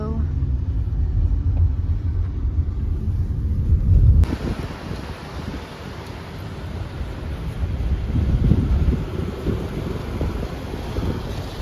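A car drives slowly through rain in Rome at rush hour, a steady low cabin rumble with rain noise and wind buffeting, with talk over it.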